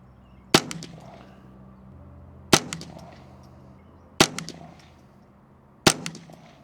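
Four sharp rifle shots from a custom Ruger 10/22, spaced a couple of seconds apart, each a loud crack followed by a short ringing echo at an outdoor range.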